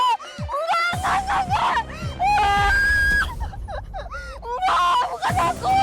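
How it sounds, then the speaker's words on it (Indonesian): At night, a woman screams and wails in long, shrill, wavering cries broken by gasps and sobbing. Loud emotional voices overlap throughout, with low thumps underneath. "Kenapa kamu teriak-teriak? Ngapain nangis malam-malam?"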